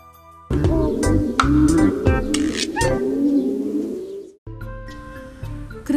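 Racing pigeons at a breeder's loft coo in soft, repeated rolling calls, close and fairly loud, with a brief gap before the cooing and chirps resume.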